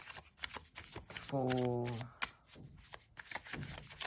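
Tarot cards are shuffled in quick riffling bursts of papery flicks, close and distinct, with a voice talking around them and a brief hummed or sung tone in the middle.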